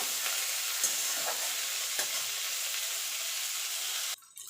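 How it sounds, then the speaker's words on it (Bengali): Spices and dried red chillies frying in a pan for dhania rui, a steady close sizzle with occasional stirring scrapes, cutting off abruptly near the end. "এটা একটু ভাজা ভাজা করে নেব"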